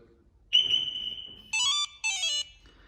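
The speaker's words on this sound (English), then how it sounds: "and we can disarm the system." Electronic alarm tones from a newly fitted security system on a 2008 Range Rover disarming from a remote, a sustained whistle-like tone followed by two bursts of warbling chirps, close and clear without speech.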